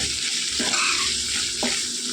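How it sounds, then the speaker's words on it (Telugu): Curry leaves fry in hot oil for a tempering for a roti pachadi of brinjal and cucumber, giving a steady close sizzle with two soft stirring scrapes against the pan. "కరివేపాకు కొద్దిగా వేగింది కదండి"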